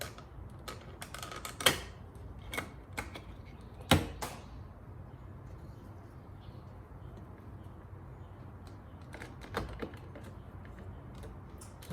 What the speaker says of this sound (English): We'll take this off and we'll take that off, and just do that with a plastic trim tool.